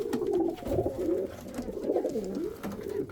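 Chinese owl pigeons cooing steadily and close by, a run of soft, rolling coos that rise and fall in pitch for the whole stretch, with no talk over them.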